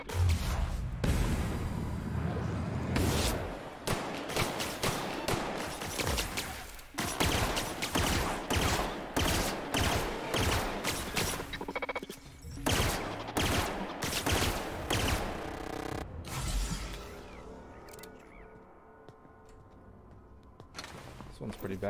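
A weapon in The Outer Worlds fires rapid bursts of gunfire, dense crackling volleys with short gaps, loud and close, while a voice talks now and then.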